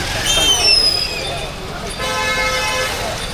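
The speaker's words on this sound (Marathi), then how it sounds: "खूपच ट्रॅफिक आज 15 ऑगस्टच्या दिवशी" Dense street traffic on a crowded Independence Day, with car horns tooting repeatedly over a steady roar of engines and a busy crowd. Voices are heard throughout.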